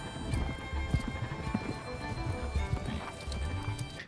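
Horses in a TV show scene clip-clop steadily, hooves striking in an uneven rhythm at close to mid distance, with a neigh mixed in among background score and ambience.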